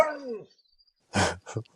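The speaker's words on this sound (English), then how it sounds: "I got two bad dogs outside." Two dogs barking outdoors: a curved whine or yelp at the start, then a loud burst of barking followed by a shorter second bark, fairly close.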